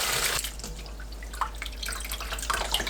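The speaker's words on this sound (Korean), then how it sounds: "물에 씻어주세요" Running water flows steadily from a tap as shredded dried pollock is rinsed beneath it, with splashes and drips up close and no talking.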